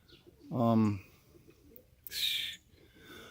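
White homing pigeons at a loft, with one clear low coo and then a short breathy burst, separated by quiet gaps, up close.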